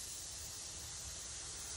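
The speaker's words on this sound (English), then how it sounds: "I like spray paint because if you look at it, it pretty much covered the whole thing" A spray paint can hisses steadily as it sprays rough sawn wood for a mushroom chainsaw carving, a continuous close, even blast of airy noise with no pauses or talk.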